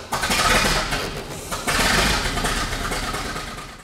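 Vintage American LaFrance fire engine, over 90 years old, cranking and catching into a rough, loud running rumble, with a second surge of revving partway through before settling.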